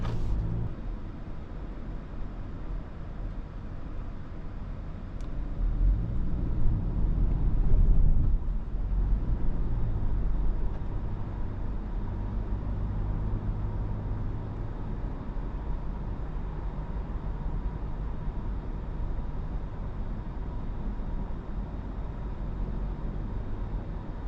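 A 2025 Toyota Camry XSE drives in sport mode, with steady engine and road rumble that swells as the car accelerates for a few seconds, then settles into an even cruising drone with wind noise.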